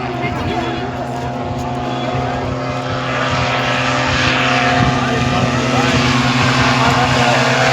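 A plane-like propeller aircraft in a desert location runs up for takeoff, its engine droning steadily and growing slightly louder, with people talking over the noise.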